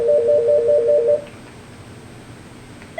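A short electronic ringtone from a Mitel 6730i/6731i desk phone plays in a rapid pulsing rhythm for about a second, then stops, leaving quiet room hiss before another tone begins.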